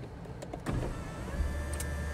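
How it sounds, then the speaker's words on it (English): A panoramic sunroof on a 2016 Lincoln MKZ Hybrid slides open with a smooth, close electric motor whir that starts after a soft click and runs steadily to the end, with no talking. "See there, panoramic sunroof. This one opens too, if we just."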